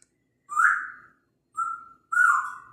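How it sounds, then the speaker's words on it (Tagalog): A parrot gives three loud whistled calls, close and clear, separated by short silences with no other sound. "Maingay si Ibon, maingay si Parot."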